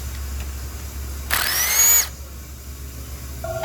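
A power tool briefly whirs up in pitch for under a second while removing valve cover bolts on a Chevy Cruze engine. The burst is close and loud, set against a low steady hum in a quiet garage.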